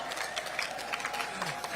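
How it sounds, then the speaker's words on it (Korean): Crowd at an outdoor political campaign rally in Gumi, South Korea, applauding steadily throughout, a dense continuous wash of clapping and crowd noise with no clear voice on top. "옆에 계신 구민 시민 여러분들을 박수로 맞이해 주십시오."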